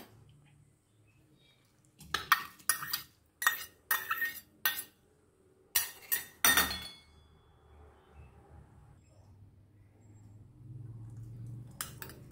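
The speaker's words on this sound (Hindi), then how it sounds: "आता सगळे साहित्य मिक्स करून घेवया।" Goan-style prawn cutlet ingredients being mixed in a bowl. A run of sharp, close clinks from a spoon striking the bowl comes in uneven strokes, then fades to near silence with no talking.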